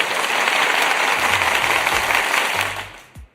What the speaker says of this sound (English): Let me get the applause button for Kim real quick.